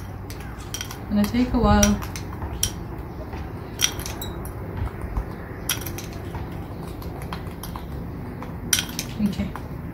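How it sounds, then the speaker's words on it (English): A spatula scrapes and clinks against a bowl while ingredients for a kids' home science experiment are stirred, bright metallic taps scattered across the stretch, with a brief spoken comment near the start. "I'm gonna take this spatula, mix this well."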